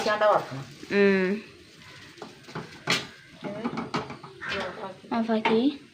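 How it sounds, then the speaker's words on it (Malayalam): Okra frying in a pan gives a soft, steady sizzle under continuous talk. "വെണ്ടയ്ക്കൊന്ന് വറുത്തെടുത്തു കേട്ടോ"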